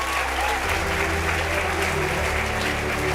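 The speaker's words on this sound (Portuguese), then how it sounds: "Pode aplaudir" Church congregation applauding during a sermon, a continuous wash of clapping over sustained low music with a voice mixed in.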